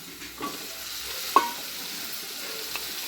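Mango pieces fry with poppy seed paste in a pan for a chutney, a soft steady sizzle with a few light stirring scrapes and one sharper utensil knock, quiet and close, with no voices.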